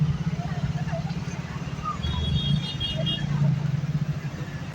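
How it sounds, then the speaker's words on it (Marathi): Large truck engines idle and rumble close by in slow-moving road traffic, a steady low throb with people talking faintly in the background. "बघ ना, कसलं मोठं मोठं ट्रक लागलं"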